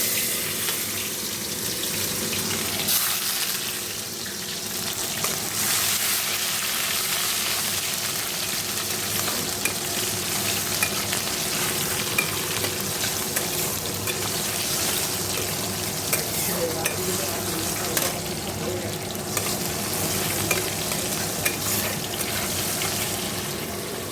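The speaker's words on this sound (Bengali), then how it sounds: "দেখো আগে সবজিগুলো দিয়ে দেবো, এগুলো একটু ভেজে নেব।" Vegetables such as tomato, ginger and green chilli fry in mustard oil in a kadai, a dense, even sizzle that runs steadily throughout with little variation, close up and without clear speech.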